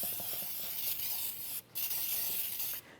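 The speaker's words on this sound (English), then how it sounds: "I'm spraying it with just some nonstick baking spray." Nonstick baking spray hisses steadily into a 9 by 13 inch baking pan in two close, continuous bursts with short pauses between, and no talking.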